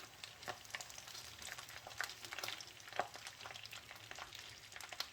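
Garlic sizzles and crackles quietly in olive oil in a pan, a steady frying hiss with scattered pops and occasional stirring.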